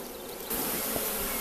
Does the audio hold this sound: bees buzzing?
yes